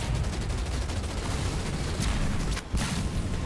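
Artillery fire in the Halo Wars 2 video game pounds in dense, continuous loud bursts, with a brief dip near the end before the barrage resumes.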